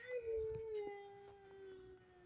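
A dog howls in a long, wavering tone that slides slightly downward and holds steady, sounding fairly close, with faint background noise and no talking.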